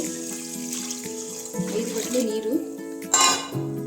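Water running and trickling into a pot of rice for pongal, steady with a brief louder gush near the end, while a person talks over it.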